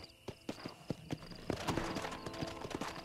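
Horse hooves clip-clop in the Red Dead video game, a quiet series of sharp, evenly spaced footfalls that quicken into a faster, denser trot toward the end.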